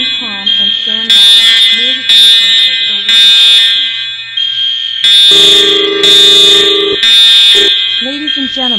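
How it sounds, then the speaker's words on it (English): Fire alarm in a Roblox school sounding in loud repeated buzzing-tone bursts about once a second, with a recorded announcement voice talking over and between the blasts. "An alarm has been activated."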